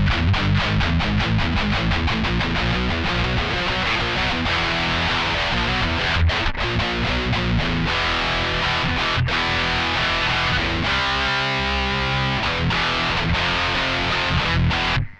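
A heavily distorted electric guitar plays through a high-gain Mosky M-Shall amp, thick and buzzing with hiss, chugging and sustained chords throughout.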